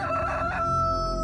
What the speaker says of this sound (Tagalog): Tilaok na mga manok mula sa hindi kalayuan ang gumising sa akin kinabukasan.